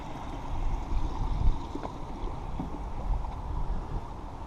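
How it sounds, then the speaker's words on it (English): Running water of a babbling brook on an April trail in Andover, a steady broadband wash with some wind noise, continuous and fairly close, no talking. "I just love the sound of the running water."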